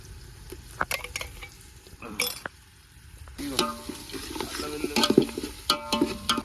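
Ginger paste fries in hot oil, crackling and sizzling up close while a utensil stirs and scrapes the pan in irregular bursts, growing busier toward the end.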